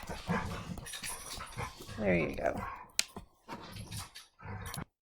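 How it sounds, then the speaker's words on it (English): Pet dogs scuffle indoors with whimpers, yelps and low growls in irregular bursts, while a person talks over the commotion. "I had to deal with my dogs scuffling"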